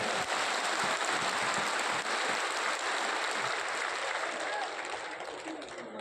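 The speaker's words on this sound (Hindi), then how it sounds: "ताली जोर से बजा रहे हैं, जोर से ताली बजाइए।" An audience at a party meeting in a Patna hall claps loudly, a dense, rain-like roar of applause that holds steady and then fades slightly toward the end.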